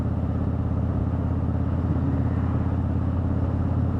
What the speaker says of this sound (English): Fucking Harleys.